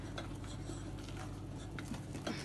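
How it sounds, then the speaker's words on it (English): A spoon stirs thick, sticky brownie batter in a bowl, giving steady soft scraping and occasional light clinks against the side, quiet and close with no talk. "And then just keep mixing, and you'll feel it getting clumpy, like it'll become stiffer, Harder to spoon around."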